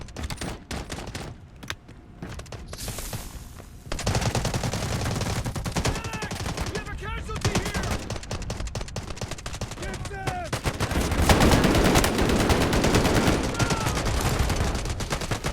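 Automatic and single-shot gunfire from the video game Delta Force, set inside a factory during a firefight, with repeated bursts and cracks continuing throughout and a dense, louder stretch of shooting near the end.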